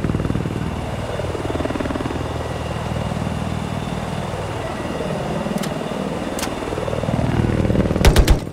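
Helicopter in the Battlefield video game on the Golmud Railway map, a loud continuous rotor and engine drone with pitch swooping down and back up as it passes, alone with a few sharp clicks near the end.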